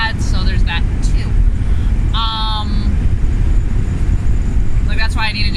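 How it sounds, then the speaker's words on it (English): Steady, loud wind rush and road roar fill the cabin of a 1986 Ford Foxbody Mustang convertible with worn seals and a leaky top while driving, continuous throughout with a few faint higher tones on top. "I apologize for any of the wind or noise and stuff like that"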